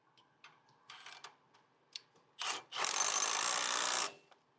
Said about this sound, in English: My little baby half-inch drive here